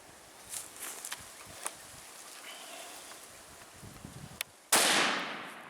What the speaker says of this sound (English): A quick follow-up shot is taken and the bull drops only 20 metres later.